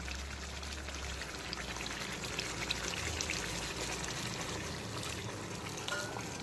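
Tea liquor pours into chicken in a hot pan over full flame, a steady splashing trickle mixed with sizzling, heard close and continuous without talk.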